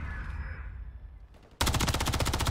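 Gunfire in the video game Call of Duty Modern Warfare 3: after a quiet fading tail, a loud burst of rapid automatic fire erupts and keeps rattling to the end.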